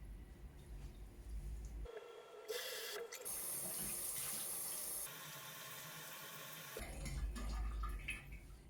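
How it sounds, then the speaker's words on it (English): A bathroom tap runs water for rinsing the face, quiet and close, switching between gentle trickles and fuller streaming gushes that start and stop several times. "after I wash this off, I like to put some cold water on my face"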